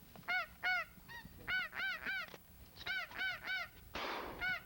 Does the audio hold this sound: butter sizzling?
no